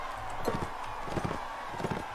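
Horses galloping in the video game Warsword Conquest, rapid rhythmic hoofbeats drumming close and loud, with a few heavier thuds through the short stretch.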